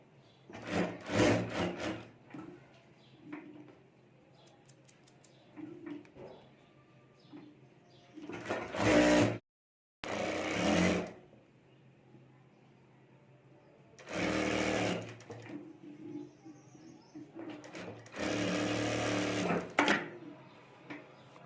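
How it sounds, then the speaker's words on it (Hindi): A sewing machine stitches a handbag pocket in loud bursts, several runs of rapid mechanical chatter separated by quiet pauses and light handling noises. "और यहाँ से हमें सिलाई कर देनी है।"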